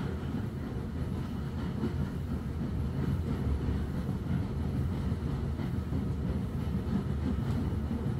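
A steam train runs on steel tracks, giving a steady, continuous low rumble with no clear individual chugs, holding even and moderately loud throughout with no voices.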